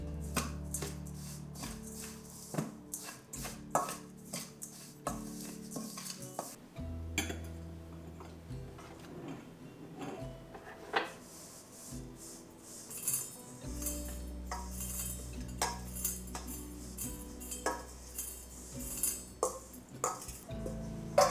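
Dried peppermint, nettle, mullein and elderflower tea herbs being mixed together in a bowl, with soft rustling, light clinks and taps of a utensil against the dish, close and quiet throughout.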